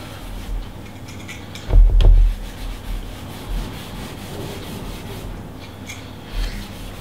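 Rose gold being rubbed onto a dry, broken-down rosewood piano finish during furniture refinishing, giving a soft, close scratchy rubbing with one louder burst of friction early on, alone and fairly quiet.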